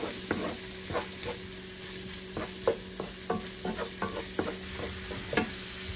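Onions frying in a pan with parsley, paprika, cumin, pepper and salt, a steady close sizzle broken by repeated scraping stirs of a utensil.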